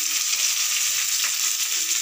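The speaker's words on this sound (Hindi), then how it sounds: "आलू भी हमारा थोड़ा फ्राई हो रहा है, भुना रहा है।" Potatoes frying in a pan, a steady bright hiss of hot oil close by, even in level for the whole short stretch, with no voices.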